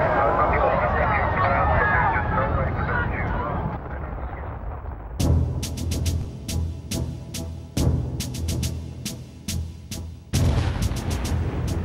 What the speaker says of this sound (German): Trotz der Entfernung hört man mehrere Explosionen in den Türmen.